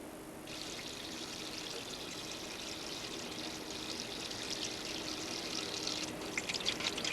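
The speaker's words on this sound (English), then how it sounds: "thoroughly wash your hands with hot water and soap." Hot water runs steadily from a tap as hands are washed with soap, a continuous close pour with a few splashy changes near the end.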